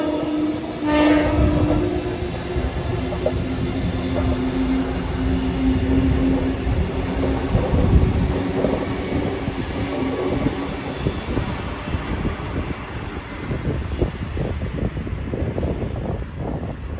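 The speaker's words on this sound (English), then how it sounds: "after those southbound T-sets passed underneath us" Southbound passenger T-set trains passing underneath at Eastwood in northern Sydney, a sustained loud rumble and wheel roar with an early horn blast, steady for the whole stretch with wind noise.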